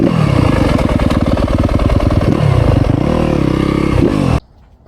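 A 2025 Yamaha YZ250FX dirt bike engine runs loud and close, revving and surging with rattling mechanical clatter, then cuts off abruptly near the end.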